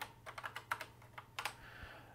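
Quick keystrokes on a BBC Micro Model B computer keyboard, a dozen or so crisp clicks in two short bursts, close and fairly quiet with no talking.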